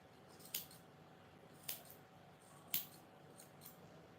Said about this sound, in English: just trim the extra threads which are coming out